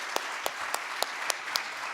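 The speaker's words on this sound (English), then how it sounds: "please join me in giving another big round of applause to our Mayor, Mat Siscoe." An audience at a State of the City address applauds the mayor, a fairly quiet steady patter of clapping with a few sharper individual claps standing out.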